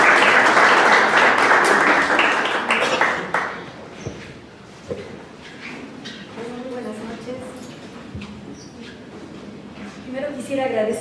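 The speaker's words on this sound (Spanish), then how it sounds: "la coautora, a profesora María Teresa Segal, para quienes pido un fuerte aplauso" Loud applause from a crowd at a book presentation fills the first few seconds, then fades into scattered claps and murmuring, with a few clinks and brief voices afterward.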